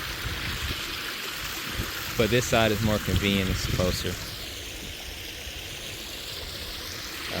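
A small creek runs steadily with a soft trickle and wash of water, and a person talks briefly over it partway through.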